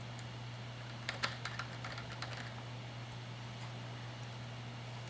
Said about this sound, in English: I'm going to type in the SSID